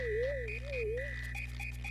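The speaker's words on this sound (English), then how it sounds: "Also, that is a flying frog." Frog croak in the Super Mario RPG video game: a warbling synthesized croak with a wavering pitch sits over steady electronic game music, clear and continuous, with no talking.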